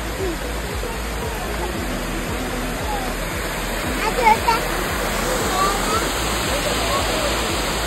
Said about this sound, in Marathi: छोटा धबधबा.